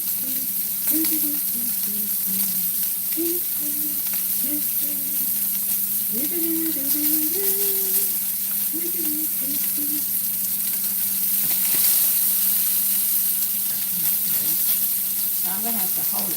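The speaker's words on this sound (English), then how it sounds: "Now the whole searing should take about 6 to 8 minutes, they say." A rib roast sears in a hot pan with a steady, loud sizzle and hiss throughout, while a person talks over the frying.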